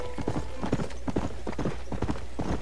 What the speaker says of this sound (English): Slow down, little horsey.